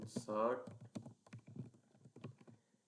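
Code being typed on a computer keyboard: soft, quick key clicks in an irregular patter, quiet and close, with a brief voice at the start.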